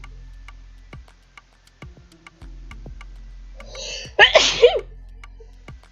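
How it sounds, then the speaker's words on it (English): A single sharp human sneeze bursts out close to the microphone during a home art stream, loud and alone after a quiet stretch of faint ticking and soft low hum. "I sneeze."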